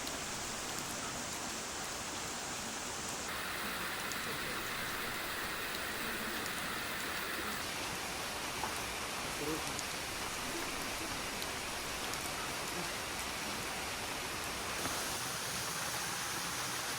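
Steady rain pours down in a jungle camp, a constant dense hiss of drops on surfaces nearby, unbroken and without talking.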